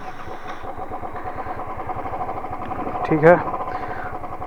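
A Royal Enfield Thunderbird 350 cruiser motorcycle engine thumps in a steady low, even rhythm close by while riding, with someone speaking briefly over it.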